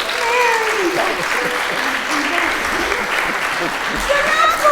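Audience at a silent film festival screening of a Laurel & Hardy film claps steadily and loudly throughout, a dense continuous applause with a few voices faintly mixed in.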